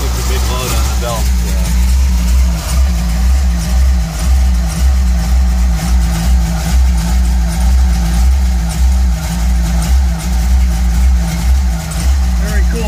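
A rear-mounted big-block V8 in a third-generation Pontiac Firebird settles into a loud, lumpy idle, a deep throbbing pulse heard up close with belt whine from a heavy 200-amp alternator load, while people talk over it.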